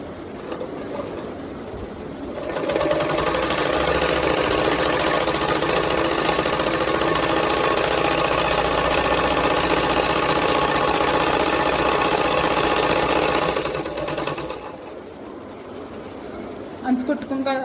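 A sewing machine runs steadily, stitching the edge of a blouse sleeve in one long, loud, even burst of motor whir that stops after about eleven seconds, with quieter handling before and after.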